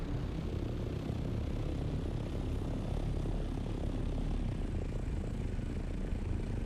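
A helicopter in the video game Dune: Awakening flies with a steady, dense rotor and engine drone that holds constant and fairly loud, with no voices.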